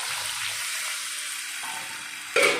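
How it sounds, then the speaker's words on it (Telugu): Tamarind extract is poured into a frying pan for ulavacharu, a horse gram dish. A steady sizzle of frying runs throughout, then a sudden louder splash and hiss swells near the end. "కొంచెం వేగిన తర్వాత మనం తీసి పెట్టుకున్న చింతపండు పులుసుని ఇందులో వేసేయాలి"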